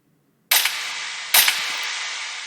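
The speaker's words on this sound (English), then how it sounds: "Next thing I added was a gunshot." Two sharp gunshot sound effects from a UK/NY drill beat, the first near the start and the second about a second later, each a loud crack with a long reverberant tail that fades slowly.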